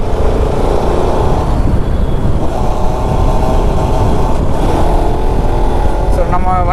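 A motorcycle engine drones steadily with strong wind rush as the bike rides along a road, loud and close throughout, while someone speaks over it.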